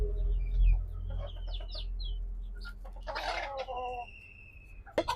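A desi hen being held for a Ranikhet vaccination clucks and squawks in short bursts, close by, over a low rumbling background.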